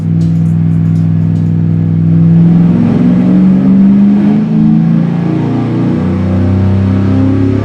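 A carbureted V8 runs a dyno pull, revving loud and close in one sustained rising roar with a steady engine drone and no talk over it.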